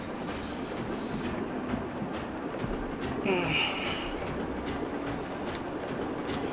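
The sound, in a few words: train riding in Zelda Tears of the Kingdom video game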